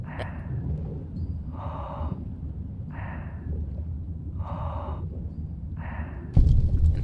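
Rebreather breathing in Fallout: New Vegas, five slow, evenly spaced hissing inhale-exhale pulses over a steady low rumble, ending in a sudden louder burst.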